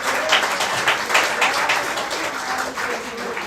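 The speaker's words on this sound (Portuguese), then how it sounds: "Pode dar uma salva de palmas ao Senhor" A church congregation claps for the Lord, a dense, sustained round of applause with many hands at once, moderately loud and filling the hall, with no voices standing out.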